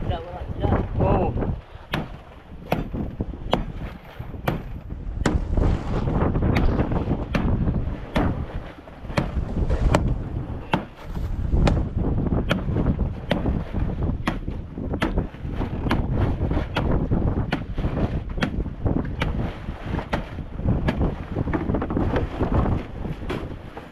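Strong wind buffets a fishing boat at sea, a steady roaring rush with rapid gusty thumps against the microphone, continuous and loud throughout.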